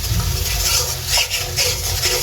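Spiced taro (kochur mukhi) with small baila fish is stirred in a pan, giving soft scraping and shuffling strokes over a steady background hiss and hum.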